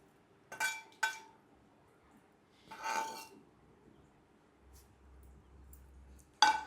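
Pickle chutney stirred with oil in a bowl, heard as a few scattered clinks and scrapes of a utensil against the bowl, with quiet pauses between them.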